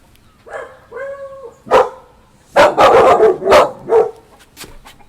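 Puppies yip and bark, first in a few whiny drawn-out calls, then a quick cluster of sharp, loud barks close by, with quiet gaps between.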